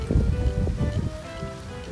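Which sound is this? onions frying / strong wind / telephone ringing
strong wind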